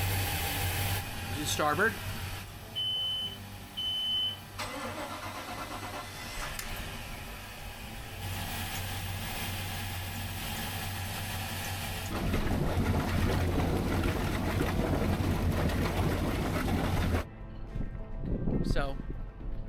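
Marine boat engines start up and settle into a steady low idle rumble that thickens in stages as each engine comes on. A person talks over the noise.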